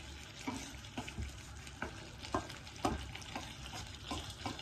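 Fish frying and simmering in a pan for a Bengali boal and puti fish dish, a soft steady sizzle broken by scattered clinks and stirring scrapes, fairly quiet and close, with no voices.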